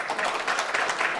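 Applause from an audience at a Korean economy-themed gathering, a brief dense patter of clapping at moderate loudness without speech.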